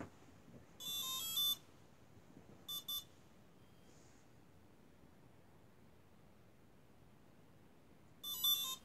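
Several bursts of high electronic beeps from a model airplane's ESC in programming mode sound against a faint hiss: a long beep sequence, a short pair, then another burst after a pause.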